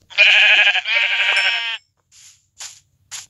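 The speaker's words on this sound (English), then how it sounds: "Sheep." Two loud, close sheep bleats from Lokicraft 2 video game, wavering and nasal, followed by a few short quieter game sound effects.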